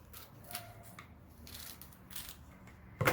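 Scissors cut extra wrapping sheet paper in a quiet room, making a few faint snips and soft paper rustles, then a louder crunch right at the end.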